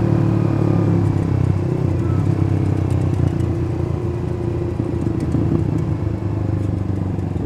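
A scooter-style automatic motorcycle on a Sunday group ride is revving steadily around 5000 RPM in fifth or sixth gear, a loud, continuous engine drone with rumble and wind, heard close up and without speech.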